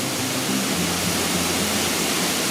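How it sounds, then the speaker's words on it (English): A waterfall off the Nova Scotia coast gives a loud, dense, continuous rushing roar with no voices. "there's a waterfall"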